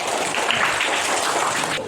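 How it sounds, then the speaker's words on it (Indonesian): A schoolroom class claps for everyone together, a dense, steady patter of many hands held at an even loudness for about two seconds before tapering off at the end. "Tepuk tangan untuk semuanya"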